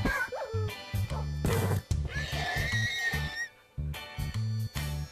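Horses in Minecraft whinny and neigh repeatedly in quick, loud bursts with short gaps, the pitched calls rising and falling over a busy game soundscape with no speech.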